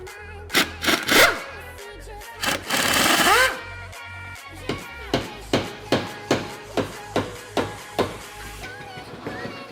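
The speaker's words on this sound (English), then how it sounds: "now we got to unbolt this steering column bolt from right here and the one down here on the rack" Tools working loose the steering column bolt on a BMW E30, a few short bursts and a longer rattling spell, then a steady run of sharp clicks close by.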